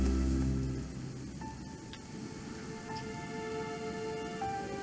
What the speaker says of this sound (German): Ah, wunderschön hier im Regen.